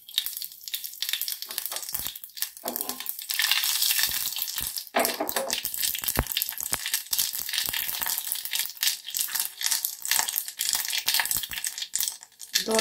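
Mustard seeds crackle and pop in hot oil, a dense, continuous spattering sizzle with sharp irregular bursts, close and moderately loud, with no talking.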